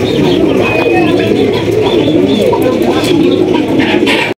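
Pigeons kept for sale coo continuously and fairly loud throughout, a steady layered murmur of calls with a few higher chirps on top, and no talking.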